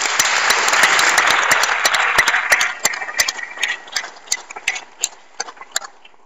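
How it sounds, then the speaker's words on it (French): Hackathon participants get a burst of applause at a prize ceremony, dense and loud at first, then thinning into scattered individual claps that trail away. "je crois qu'on peut les applaudir."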